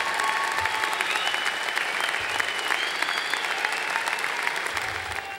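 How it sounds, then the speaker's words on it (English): Graduates at a university commencement ceremony applaud their families and friends, a broad, steady wash of clapping from a large crowd in a big hall. "acknowledge their families and friends with a round of applause"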